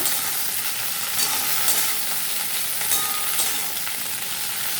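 Okra with green chillies being stirred and fried in a pan, a steady close sizzle with soft scraping strokes of the spoon at an even pace, no voices.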